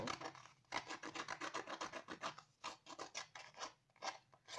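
Quiet, rhythmic scraping of scissors against rice paper edges, repeated strokes in a steady back-and-forth pattern with no voices.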